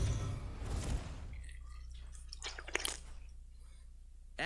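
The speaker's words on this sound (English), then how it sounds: "I'm gonna go ahead and open my water here." A bottle of sparkling water is cracked open close by, giving a quick burst of fizzing hiss followed by a few small liquid drips and clicks over a low steady hum.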